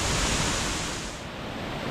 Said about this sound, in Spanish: ¡Qué cascada tan bonita!